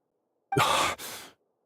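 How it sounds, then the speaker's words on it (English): Weak, breathy exhale from Genshin Impact's Dendro Archon Nahida, a single soft sigh-like breath in two parts, close and isolated against silence. "Her breathing is weak"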